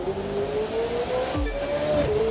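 A McLaren F1 1993 hypercar races in The Crew 2 video game, its engine droning steadily and rising in pitch as it accelerates. A gear-shift dip and a low thump come partway through, with no talking.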